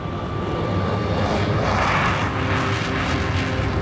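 A Tupolev Tu-144 supersonic passenger jet roars loudly and continuously, its engine noise swelling to a peak near the middle, as if passing close by.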